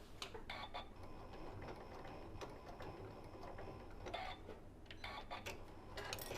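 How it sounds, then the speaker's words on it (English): A sewing machine stitching along the seam of a Japanese rice bag and locking the stitches, a soft mechanical whirring with rapid clicks and a few sharper taps, close and quiet. "I started right in the seam, so that's exactly where I'm going to stop and lock my stitches"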